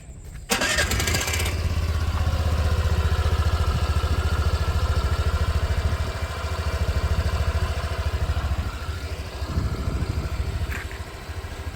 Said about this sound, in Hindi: तो चलिए सुन लेते हैं एक्सेस का इंजन नोट।